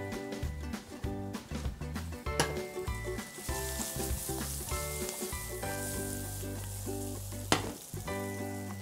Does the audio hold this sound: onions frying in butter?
yes